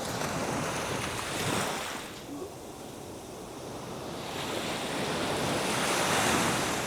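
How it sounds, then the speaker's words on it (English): Ocean waves crash and wash onto a beach in Marbella, a steady broadband roar of surf that swells and recedes, with some wind buffeting the microphone and no voices. "the sounds of the beautiful waves crashing"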